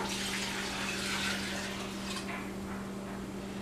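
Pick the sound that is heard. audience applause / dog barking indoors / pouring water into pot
pouring water into pot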